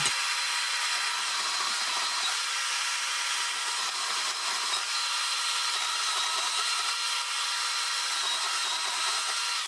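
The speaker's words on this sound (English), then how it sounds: "Back to the bandsaw." A bandsaw cuts through aluminum, producing a steady, close, continuous hiss-like grind that holds evenly from start to finish with no talking.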